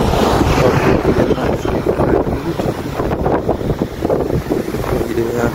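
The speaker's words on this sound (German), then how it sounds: "es ist ganz schön windig hier" Strong wind buffets a microphone outdoors, a loud continuous rumbling roar with gusty fluctuations throughout.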